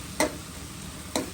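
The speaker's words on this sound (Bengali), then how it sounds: "এটা একবারে ভাজা ভাজা করবো।" Tomato chutney frying in a pan, stirred twice with sharp bursts of sizzling scraping at each pass over a steady low hiss of cooking.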